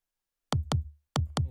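Punchy big-room kick drum sample from an FL Studio track, hitting in two pairs of deep thuds with a short gap between the pairs, heard alone.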